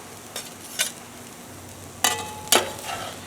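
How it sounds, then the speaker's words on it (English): Crawfish slid off a spatula into a pot of roux for étouffée, a soft background sizzle broken by a few scraping, clattering knocks. "I'm going to go ahead and transfer them back into the pot with the roux"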